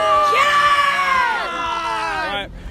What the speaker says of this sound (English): big loud cheer